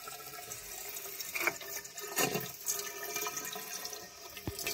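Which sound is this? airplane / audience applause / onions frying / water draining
water draining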